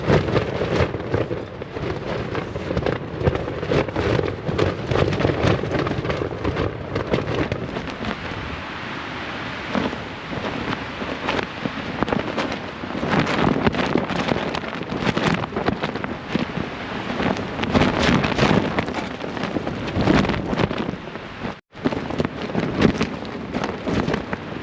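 Storm-force wind and heavy rain hitting a low-profile tent during a storm, a continuous loud roar of gusts buffeting the fabric and rain pattering in dense irregular bursts close by, with no talk.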